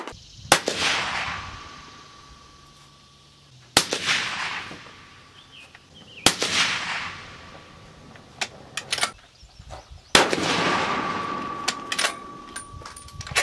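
Four suppressed .308 rifle shots fired outdoors, each a sharp close report with a ringing tail, spaced a few seconds apart, with faint clinks and handling noises between.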